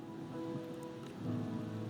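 Steady rain falls in the video game Wuthering Waves, a continuous dense hiss with a low ambient hum beneath, swelling slightly louder in the second half, with no voices.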